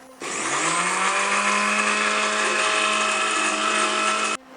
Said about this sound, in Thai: ปิดฝาแล้วก็ปั่นไข่กับน้ำตาลทรายให้เข้ากันค่ะ